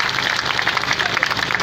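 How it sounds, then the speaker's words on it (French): Lively applause from a crowd at a New Year celebration in Toulepleu, dense rapid clapping that holds steady and fairly close for the whole short stretch, with a faint murmur of voices beneath it. "applaudissez fort pour bonjour"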